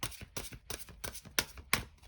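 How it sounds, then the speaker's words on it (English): A deck of oracle cards being shuffled, six quick riffling bursts in a steady rhythm, close and fairly quiet, with no voices. "Give the deck one last shuffle."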